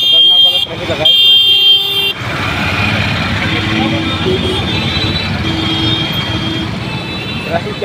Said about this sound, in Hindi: ट्रैफिक क्या करो एकदम खतरनाक वाला ट्रैफिक लगा है।